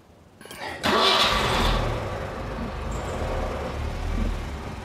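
An engine turns over and catches, then a car fitted with a half-automatic clutch pulls away in first gear with a steady, close rumble and a slight rise in revs.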